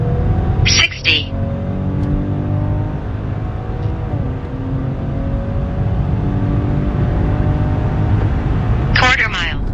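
A Maserati Levante SUV accelerates hard from a standstill to 60 mph, its engine droning and climbing steadily through the run under a loud, continuous roar, with brief sharp bursts near the start and end.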